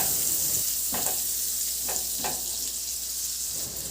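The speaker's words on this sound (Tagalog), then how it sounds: "Maglagay na ako ng butter, mga 2 tablespoon lang na butter. Ihalo lang hanggang sa matunaw." Butter melting and being stirred with sautéed garlic in a hot frying pan, a steady close sizzle with a few soft scraping strokes of the utensil.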